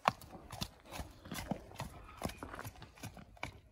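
A young horse walks back and forth, its hooves clip-clopping in a quick, fairly regular rhythm close by, at a soft level with no talk over it.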